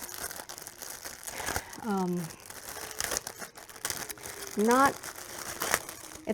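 A packaged Chaos Blossom tarot cloth from an X-Cat Studio tarot set is handled, giving close crinkling plastic rustles in short bursts, while a voice speaks in between.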